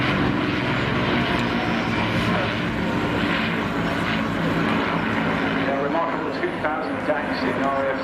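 A Douglas Dakota, a twin propeller airliner first flown in 1935, flies at the Torbay Air Show with a steady, loud engine drone throughout, while a commentator talks over it.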